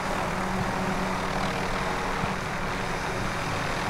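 A helicopter flies in the video game Call of Duty: Warzone, giving a steady, loud, droning engine and rotor rumble that fills the whole stretch without break.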